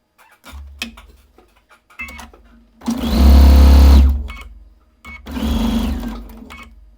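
Sewing machine joining quilt block rows for a lattice block, with short starts and stops and then two loud sustained runs of whirring stitches, close up and with no talk.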